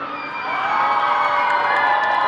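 A crowd cheers, whoops and applauds for an actor, a loud, sustained roar of excited voices with high shouts that swells after the first half second and stays full to the end.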